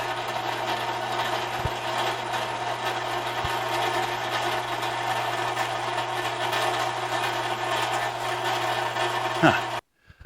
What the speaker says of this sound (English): we'll finish drilling the rod later